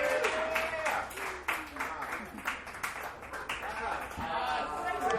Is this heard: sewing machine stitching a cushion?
no